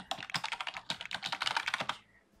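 Quick typing on a computer keyboard to enter a character name in The Sims 4. A close run of about two dozen crisp key clicks comes at a fast, uneven pace and then stops, leaving quiet.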